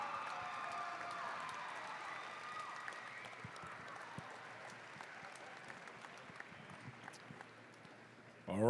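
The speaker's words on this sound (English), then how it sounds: "How about let's hear a big round of applause" Sustained applause from a large crowd at a FIRST robotics championship, steady clapping and light cheering that slowly fades over several seconds.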